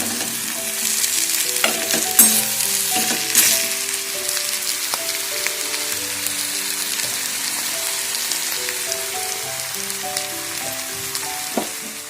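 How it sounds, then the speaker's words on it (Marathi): Ghevda beans being sautéed with crushed roasted peanuts, a continuous close sizzle with repeated spatula scrapes and stirs against the pan, steady throughout with no talking. "फक्त आपल्याला शेंगदाण्याचं कूट टाकून परतवून घ्यायचा"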